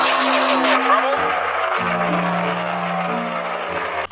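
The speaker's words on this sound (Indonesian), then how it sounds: "ada mobil balap mewah" A luxury race car in Jurassic World Evolution 2, white with black trim, holds a loud steady engine drone with shifting pitch steps throughout, and tire noise underneath.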